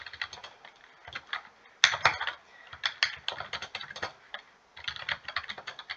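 Computer keyboard typing in bursts of quick, close keystrokes with brief pauses between runs; there is no talk.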